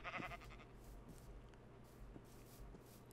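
Blocky sheep in Minecraft bleat faintly during a UHC match, a soft brief call amid quiet game ambience and low hum.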